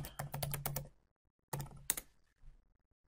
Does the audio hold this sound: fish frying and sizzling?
no